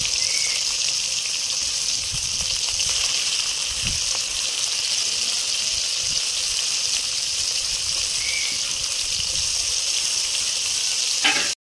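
Turmeric-coated prawns fry in mustard oil in a hot kadai, producing a continuous, even crackling sizzle close to the pan, with occasional faint stirring.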